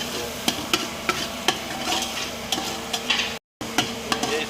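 Mutton brain masala with eggs cooking dhaba style in a pan: a steady sizzle with regular sharp scrapes of stirring. No one speaks.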